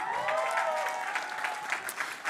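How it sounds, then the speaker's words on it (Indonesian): Applause from an audience at a phone launch event, a dense wash of clapping sustained throughout at moderate level, with a faint tonal hum running underneath. "Tepuk tangan dulu."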